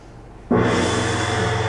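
A gong struck once after a brief quiet moment, its deep, loud tone swelling and then holding a long, steady ring, with no voices.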